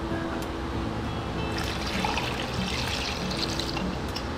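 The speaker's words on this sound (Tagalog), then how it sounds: "At lagyan po natin siya ng tubig." Steady trickling and splashing of water being poured over milkfish for homemade smoked tinapa, a continuous wash of liquid sound with no talking.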